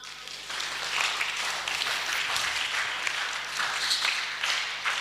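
A church congregation applauding: a dense, sustained wash of clapping from many hands, steady and moderately loud across the whole stretch, with faint voices mixed in.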